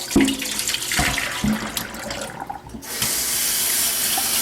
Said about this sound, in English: This isn't too bad, so I'm just going to dump it in the sink.